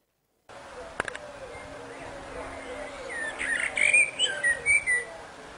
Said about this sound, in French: Vous voulez un petit merle?